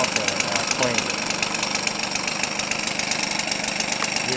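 A Weedeater Featherlite 25cc two-stroke engine with an 11 mm Walbro two-needle carburetor runs at a steady high idle, a continuous buzzing drone held evenly throughout.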